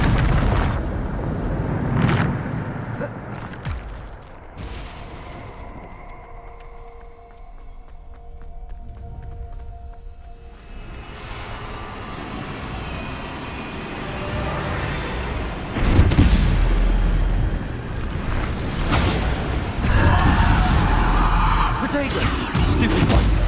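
Bombarda spell blasts in Hogwarts Legacy, loud booming explosions with rumbling bursts, a big impact around the middle and heavier blasts later, over game music and a voice.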